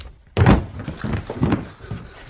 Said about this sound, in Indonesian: ia tak sengaja menyenggol tiang yang rapuh dan...